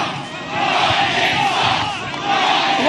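A big crowd at a political rally chants and shouts loudly in unison, a dense roar of voices that swells and keeps going.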